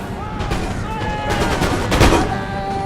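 Dense musket volleys crackle alongside deep booming artillery across an Empire: Total War battlefield at Camden, a continuous loud barrage of overlapping shots, with someone talking over it.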